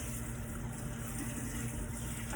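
Steady running water rinsing through hair during a second shampoo wash, a soft continuous faucet-like spray with no talking.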